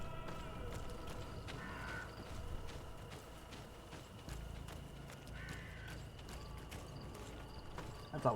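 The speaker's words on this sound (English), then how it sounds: "That's a loud-ass crow." In the GreedFall video game, a crow caws loudly twice against a constant outdoor ambience, with faint steady clopping underneath.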